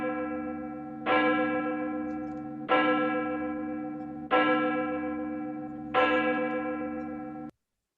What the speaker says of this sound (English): We'll begin our service with the ringing of the bell.